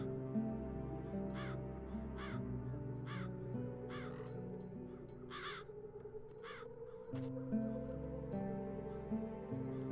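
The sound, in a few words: crows cawing in the video game The Dark Eye: Chains of Satinav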